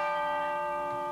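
A gong struck on a TV game show rings out as a sustained metallic tone with many steady overtones, fairly quiet and alone.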